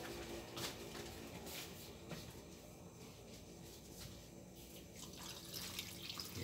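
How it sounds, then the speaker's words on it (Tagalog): Water runs into a bowl of dough mixture for ube doughnut balls, a soft steady trickling pour heard up close with nobody speaking. "Lagyan natin ng tubig muna."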